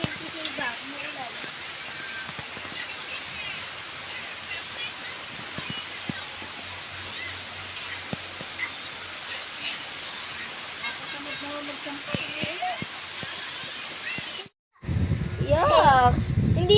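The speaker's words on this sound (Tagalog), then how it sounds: "Umuulan." Steady rain hisses down outdoors, with a few children's voices over it, then cuts to a brief silence before louder, closer talk.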